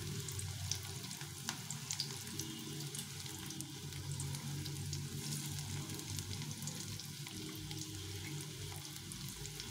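Fritters made from fish oil fry in a pan of hot oil, giving a steady, dense sizzle that crackles evenly throughout at moderate level, with no voices.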